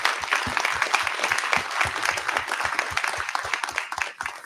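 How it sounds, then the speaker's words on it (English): Audience at a startup pitch competition gives a strong round of applause for the pitching founders, a dense sustained clapping with distinct individual claps standing out, steady for the whole stretch. "give a huge round of applause to everybody who just pitched there"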